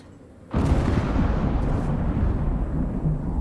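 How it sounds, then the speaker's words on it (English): Deep, heavy rumble of thunder in the survival game Icarus, set in an Arctic area. It starts abruptly with a loud crack and rolls on steadily, booming and continuous, with no talk over it. "I didn't get a weather warning. Why is there this booming thunder?"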